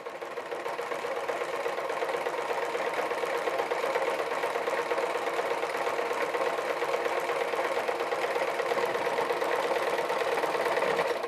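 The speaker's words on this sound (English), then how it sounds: "make sure that your stitching stays within the cut lines" A sewing machine stitches leather chaps in one steady, continuous run, a close, even mechanical drone with no pauses.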